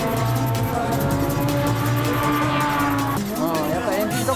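A tuned race car engine with a borrowed engine mismatched to its gearbox drones loudly at high revs on track under excited talk, its pitch wavering and shifting near the end.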